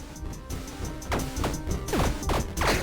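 Tables shattering from a club in the video game Tiny Rogues: a series of sharp smashing crashes with quick descending ringing tones, several close together over looping game music.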